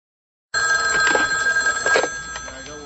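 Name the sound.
telephone ringing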